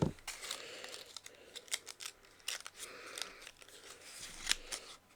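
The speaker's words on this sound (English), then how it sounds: "So we might cut down like half of this flap." Scissors cutting through a cardstock flap, a series of quiet close crisp snips and crunchy slicing strokes in uneven bursts, with no voices.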